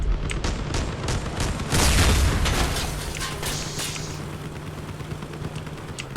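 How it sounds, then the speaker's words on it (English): Shotgun fire in the vehicle combat game Crossout, with a dense roar of booming blasts and crackling impacts layered over each other, loudest near the middle and then tapering to a steady rumble. "Look at these shotguns, just shred everything up."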